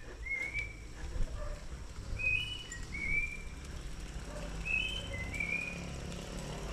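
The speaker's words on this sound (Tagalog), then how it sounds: "Anong ibon yun? Ganda ng pito" Clear, melodic whistled bird calls repeat in short phrases along a mountain loop road between Laguna and Quezon, rising over a low rumbling background.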